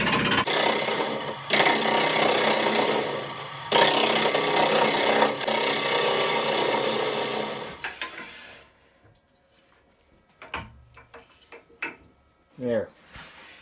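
A wood lathe turning a walnut bowl blank at just over 1,000 RPM, a loud steady whir and hiss of cutting for several seconds that cuts out, followed by quieter knocks and handling sounds as someone talks.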